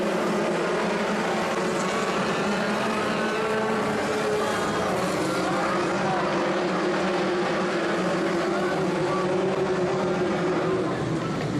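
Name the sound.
midget race cars racing at Skagit Speedway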